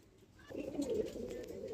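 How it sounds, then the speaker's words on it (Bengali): Pet pigeons, including black magpie pouters, give a soft, low cooing burst that swells after a quiet start and continues, fairly close and moderately quiet, with no talk. "দেখো পায়রা ফুল মস্তিতে আছে"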